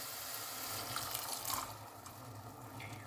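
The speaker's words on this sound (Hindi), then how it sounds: "अब मैं जो मैंने चने की दाल उबाल के रखी थी वो उसके पानी समेत वो इसके अंदर डालनी है" Boiled chana dal and its cooking water pour into a pan for a sweet dal, a steady watery splash and gush filling the clip close up with no talking.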